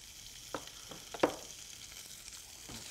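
Scallops fry in a little oil with a steady close sizzle, broken by a few soft knocks as they settle in the pan.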